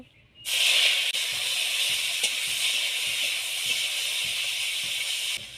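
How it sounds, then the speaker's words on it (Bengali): Mushrooms, potatoes and chhatu frying in mustard oil in a pan, a loud, sudden hiss that bursts in as they drop into the hot oil and then holds as a steady, close sizzle before cutting off at the end. "এবার আমি যে জল ঝরিয়ে রেখেছিলাম মাশরুম, ছাতু আর আলুটা, ওটা ভেজে নেব।"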